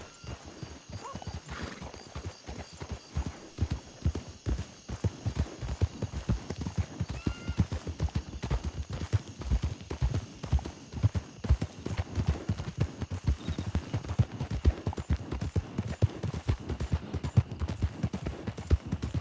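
Steady, rhythmic clip-clop of horse hooves on a hard surface, close and continuous, with a brief whinny early on.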